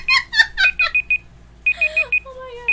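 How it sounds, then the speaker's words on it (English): A kitchen-style timer beeping in quick repeated bursts: a fast run of sharp electronic beeps, a short pause, then another run, loud and close, with a voice coming in faintly near the end. "That's your timer."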